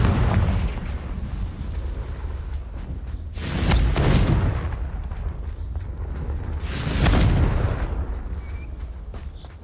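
Confringo blasting spell in Hogwarts Legacy goes off twice, each a loud booming explosion with a rumbling tail, separated by a few seconds of low background rumble.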